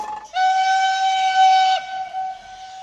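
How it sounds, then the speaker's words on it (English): A loud, steady steam engine whistle used for signalling during steam ploughing, sounding as one sustained tone that swells briefly and then holds, with no talk. "The whole thing controlled by whistles, because clearly they're too far away to talk."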